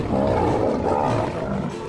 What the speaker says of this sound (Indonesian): Seperti suara singa.